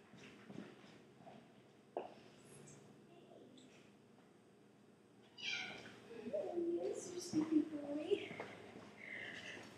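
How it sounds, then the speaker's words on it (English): Oliver, a three-legged cat missing one back foot, gives several short meows in a quiet indoor room after soft rustling and movement, growing a little louder toward the end. "so now I'm going to show you her cat"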